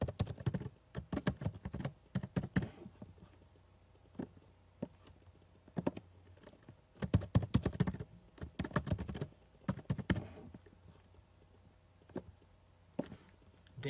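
Keys on a computer keyboard are tapped in quick bursts separated by short pauses while a password is entered; the clicking is close, quiet and alone.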